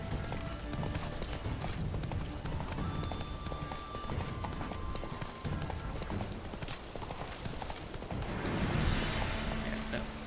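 Roach the horse gallops in The Witcher 3, a steady rhythmic clip-clop of hooves running on and on, with a brief shift in the terrain noise near the end.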